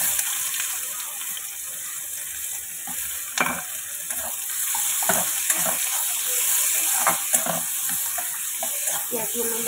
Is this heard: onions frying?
yes